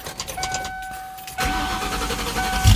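A 1996 Ford Mustang GT with a two-valve V8 and five-speed cranks briefly with a whining starter, then fires and settles into a loud, close, steady idle rumble.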